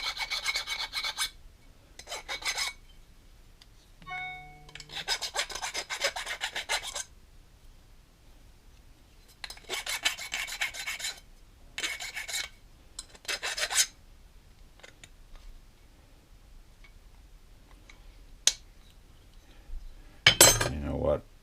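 A file rasps against a knife handle in several separate bursts of scraping strokes, each a second or two long with pauses between, close and moderately loud, with a few light metallic clinks.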